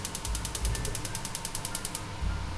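High-capacity wok burner on a kitchen stove being turned on: a rapid run of sharp ratcheting igniter clicks, close and evenly spaced, followed by a low rush as the flame catches.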